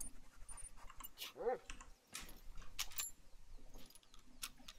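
Dog panting in theHunter: Call of the Wild hunting game, rapid breaths running throughout under background game sounds, with a jangling tag or keys and a short whine partway through.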